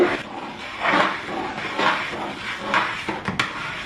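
A spoon scrapes and knocks against a pot while thick rice flour dodol is stirred over high heat, in a steady rhythm of rasping strokes about once a second with a few light clinks near the end.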